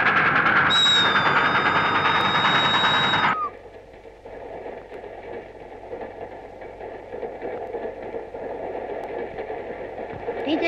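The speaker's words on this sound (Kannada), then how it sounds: "ಟ್ರೈನ್." A train sound effect in a dramatized story about a night train from Bangalore to Delhi. A loud, sustained horn-like blast opens, then it drops to a quieter, steady rolling rumble of moving carriages.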